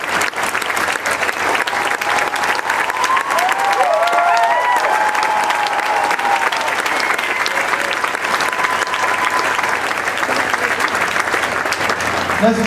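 Large audience applauding and cheering for people honored for overcoming anxiety and trauma, a sustained, loud wash of clapping with whoops and shouts rising over it, continuing steadily throughout.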